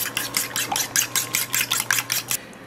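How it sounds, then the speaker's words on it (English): A whisk beats an egg and milk mixture in a bowl, about a dozen quick, even scraping strokes close by with no talking. "I'm going to add in a couple tablespoons of milk and then whisk again"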